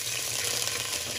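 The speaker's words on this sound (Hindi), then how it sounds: "हम थोड़ा सा पानी डालेंगे" Water added to garlic and whole spices frying in oil gives a brief burst of hissing sizzle, steady and close, with no voices.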